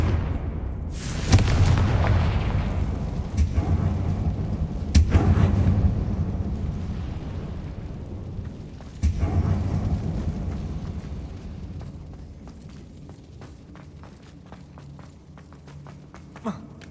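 Confringo fire spell blasts in the Hogwarts Legacy video game: several loud booming explosions at about 1, 5 and 9 seconds, each followed by a decaying rumble that fades toward the end.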